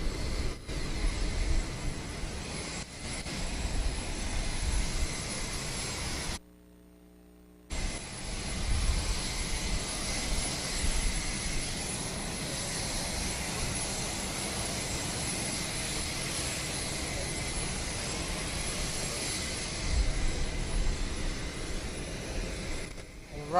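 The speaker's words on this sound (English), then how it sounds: "the plane is about to shut down" Engines of a cargo plane delivering COVAX COVID-19 vaccines run with a loud, continuous roar that briefly cuts out about a third of the way in, then resumes steadily for the rest of the stretch.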